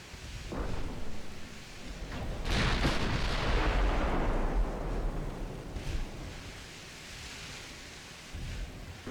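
Heavy warship guns in the naval combat game Ultimate Admiral Dreadnoughts, firing a single deep booming salvo that rolls into a long rumbling decay, with fainter distant thuds afterward.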